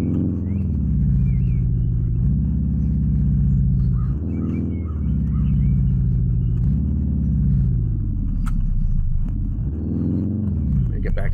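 Car engine in the Outerra driving simulation, a loud continuous synthetic rumble that rises and falls in pitch in repeated surges as the car accelerates and shifts, with someone talking over it.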